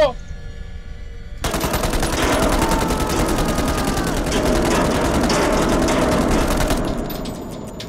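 Rapid, continuous gunfire rattles loudly for several seconds, like automatic weapons in the game Man of Medan, after a brief quieter stretch.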